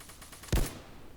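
A single sharp gunshot rings out in a bean-battle video game, loud and close, with a brief decaying tail against quiet game ambience.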